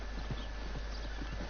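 Horse hooves clip-clopping in a steady trotting rhythm while riding in Red Dead Redemption 2 Online, close and continuous over a constant low hum.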